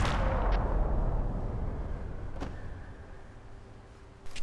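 A gunshot from the Max Payne 3 video game in slowed bullet time, with a heavy low boom that decays slowly, then a couple of sharp clicks and ticks near the end.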